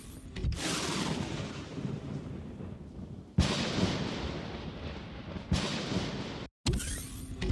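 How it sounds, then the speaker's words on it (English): A day-long storm in the Empyrion game, heavy rumbling thunder and rain roaring in long loud washes, with a brief dropout near the end. "it's a bit hard to hear anything over the storm that's been going on all day"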